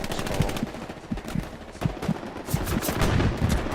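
Gunfire from a strafing run in the World War II shooter Hell Let Loose. A dense, loud stream of rapid shots and impacts continues without a break for the whole clip.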